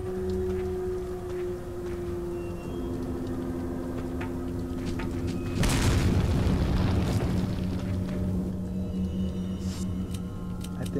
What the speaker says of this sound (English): I wanted to come back here and throw the grenades somewhere there so I can get the treasure.